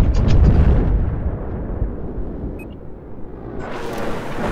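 A grenade goes off in the military shooter Battlefield 4 on the jungle island map Paracel Storm, a loud close blast whose rumble slowly fades, with a faint metallic clink and more combat noise rising at the end.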